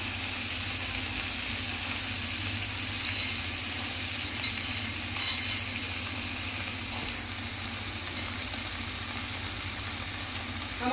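Broccoli with onion stalks fries in a pan as a continuous, moderate sizzle, with a few soft utensil taps and scrapes scattered through and no talking.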